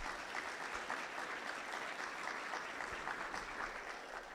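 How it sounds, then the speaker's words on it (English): Steady, dense audience applause at a South Texas business evening event on auto manufacturing, loud and sustained with no voice over it. "please give them a round of applause for their focus and priorities"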